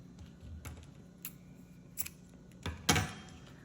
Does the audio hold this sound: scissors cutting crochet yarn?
yes